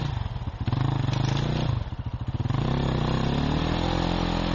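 An enduro motorcycle engine runs loud and close in rain, its rumble dipping and then revving back up steadily.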